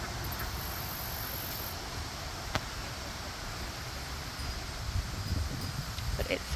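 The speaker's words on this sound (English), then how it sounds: "this is the wind I'm talking about. It is windy today." Soft, steady wind rustling through leaves and plants outdoors, with a faint gust toward the end and no talking.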